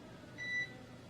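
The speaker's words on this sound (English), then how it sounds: "I don't like the beeps." A single steady electronic beep, a clear tone lasting about a quarter second, sounds over a quiet background hum during a SpaceX NASA launch broadcast.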